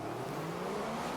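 Formula 1 race cars in a racing video game launch off the start line together, a brief dense roar of engines rising in pitch as they accelerate away, loud and continuous with no talk.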